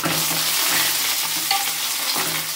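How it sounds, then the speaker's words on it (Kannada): Green chillies frying in a pan over a low flame give a steady soft sizzle, broken by a few stirring scrapes, close by and with no voices. "ಚೆನ್ನಾಗಿ ಫ್ರೈ ಮಾಡ್ಕೊಳ್ಳಿ ಎರಡನ್ನು ಸಹ."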